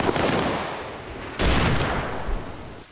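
Mortar fire in Arma Reforger, a loud booming blast followed by a second impact that rolls into a long, dense rumble, heard up close.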